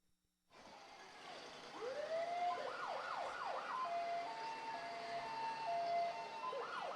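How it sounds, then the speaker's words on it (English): A retired fire engine's siren wails in rising and falling sweeps at a community parade, moderately distant and sustained over several seconds amid outdoor background noise. "Retired Engine 21 is owned by Steve Gilbert"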